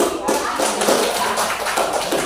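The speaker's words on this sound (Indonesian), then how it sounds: "tepuk tangan untuk Abi" Primary school class claps for a pupil, a short burst of quick, fairly close clapping with uneven rhythm.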